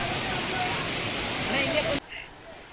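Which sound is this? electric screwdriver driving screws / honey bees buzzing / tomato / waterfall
waterfall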